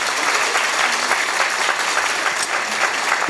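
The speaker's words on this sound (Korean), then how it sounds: "박수합니다" Dense, steady applause from an audience at a Korean political lecture, a loud continuous wash of many hands clapping at once with no voices over it.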